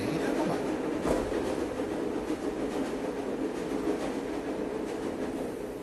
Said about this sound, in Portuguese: Aqui o trem vai acabar.